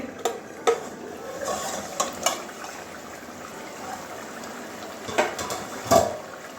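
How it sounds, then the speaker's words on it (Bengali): Metal lid lifted off a pan of simmering mango and kachki fish curry, several light clanks and scrapes over a soft bubbling background, fairly close and quiet. "এবারে ঢাকনাটা খুলে নিচ্ছি"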